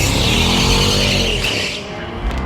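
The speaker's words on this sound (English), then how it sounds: "So I was working and then I hear burnouts." A McLaren 650S Spider does a burnout, its engine roaring loud and close under screeching, skidding tires before the noise fades near the end.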